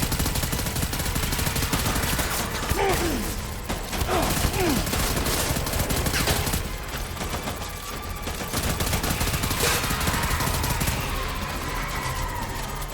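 Assault rifle fire from Death Stranding rattles in continuous rapid bursts across the whole stretch, loud and dense with sharp repeated cracks layered over a busy, noisy background.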